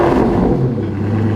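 A 6-liter V12 car fitted with a Velocity AP exhaust revs loudly and close by, a deep throaty roar holding briefly before easing slightly, heard alone.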